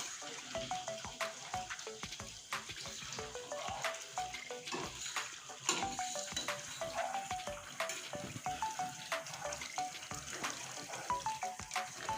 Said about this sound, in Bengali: দেখুন কত সুন্দরভাবে তেল খাচ্ছে ঘি বেরোচ্ছে